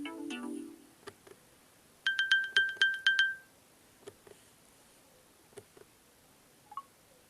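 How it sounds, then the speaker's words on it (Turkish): An Apple Watch sounds its locator alert: a quick run of bright, pinging electronic tones in a rapid burst, surrounded by faint clicks in a quiet room. "Apple Watch'unda şimdi ses çalıyorum."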